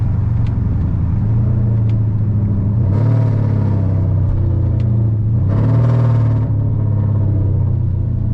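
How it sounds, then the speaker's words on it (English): A loud Dodge Challenger R/T engine rumbles steadily during a night cruise, with two throaty rev surges as it downshifts, heard up close from inside the car with no talking. "I want you guys to hear just how crucial the downshifts are right now"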